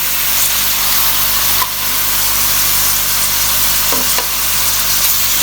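Boneless chicken frying in a pan for spaghetti chow mein, a loud steady sizzle throughout with a couple of brief stirring clinks, close and continuous, with no talking.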